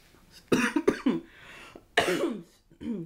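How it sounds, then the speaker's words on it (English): Two harsh, close coughing fits, each a cluster of rough bursts separated by brief pauses. "I have a really bad cough."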